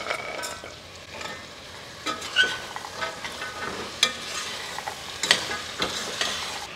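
Soaked, unboiled kidney beans being stirred and fried in spice masala in a pressure cooker for Punjabi rajma, a close sizzle with irregular spoon scrapes and taps throughout.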